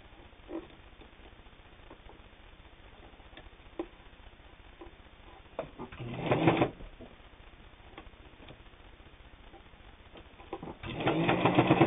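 A heavy-duty New Home Type H sewing machine stitches through a scrap of leather with a leather needle, running in two loud bursts of fast mechanical chatter between quieter ticks and handling clicks.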